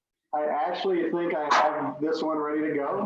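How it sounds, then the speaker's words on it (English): A pet corgi barks in the background of a home, short yaps breaking through a person talking steadily close by. "if you hear the barking in the background, every time we get on a call, the corgi in the house decides he's going to help"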